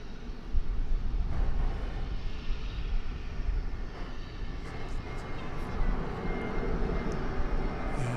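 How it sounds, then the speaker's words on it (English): An American Airlines Airbus A321 arriving at DFW Airport, a steady distant jet roar with low rumble holding through the whole stretch, no voices over it. "Let's see if we can catch flight 1992, American Airlines. It's an Airbus A321."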